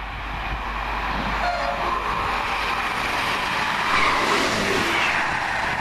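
A Class 158 diesel passenger train passes through on a Carmarthen to Manchester Piccadilly service, a steady loud rumble of wheels and diesel engine that swells slightly toward the end, with no talk.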